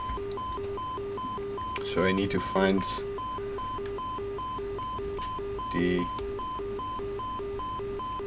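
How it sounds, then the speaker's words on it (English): The master alarm in the Space Shuttle Mission 2007 simulator game sounds as a steady, evenly repeating electronic beep tone throughout, while someone talks briefly over it in a few short bursts. "so now the master alarm is going off."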